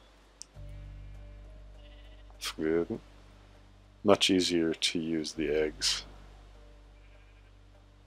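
Sheep in the video game Minecraft bleat several times in quick succession. The bleats are fairly close and clear over a quiet background, with a short bit of talking.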